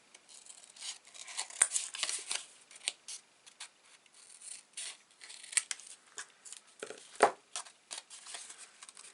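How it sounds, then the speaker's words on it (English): Scissors snip off paper ends in quiet, close, irregular cuts and rustles, with one sharper snip near the end and short pauses between. "we're going to trim those ends off"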